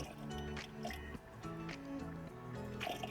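Liquid lawn fertilizer is splashed out of a container by eye, a quiet close-up of glugging drips and wet pouring sounds with no talk.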